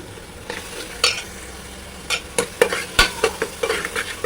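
Spices for pav bhaji (garam masala, red chilli powder, ginger-garlic paste) being stirred in a pan on low heat: repeated scraping strokes of a spoon with light sizzling underneath, close and fairly loud, no talking.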